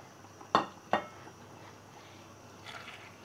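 Eggs mixed in a pan with a spatula: two sharp metallic knocks close together, then quiet, then a soft brief scraping.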